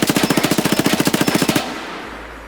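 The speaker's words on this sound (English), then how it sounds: "shoot the MPX." MPX submachine gun in Escape From Tarkov firing one rapid, even burst of about twenty close, loud shots, then stopping abruptly into a fading echo.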